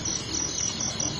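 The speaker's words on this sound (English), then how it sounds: "A huge amount of insects arrive here at the light traps, especially crickets, field crickets in big masses." Field crickets massing at insect light traps in Siem Reap, Cambodia, a dense, continuous high chirring trill from many insects, close and steady with no talk.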